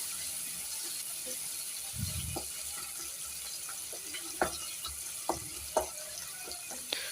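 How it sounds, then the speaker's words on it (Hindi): Ground spices roast in a hot pan for achari brinjal, a soft, steady sizzle broken by sharp clicks and scrapes of a spatula stirring the mixture, with no talking. "अब इन मसालों को अच्छी तरह से भून लेंगे"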